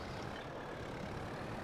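A tractor in Farming Simulator 22 drives past, giving a steady low engine rumble with broadband mechanical noise at an even level throughout.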